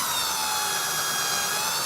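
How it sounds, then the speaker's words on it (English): A power drill runs steadily throughout during repair work on an original 1989 Nintendo Game Boy, a continuous close whirring hum with no voices over it. "the drill was going the wrong way, right?"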